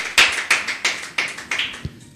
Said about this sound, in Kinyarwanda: Seriveri wacu twamukomera amashyi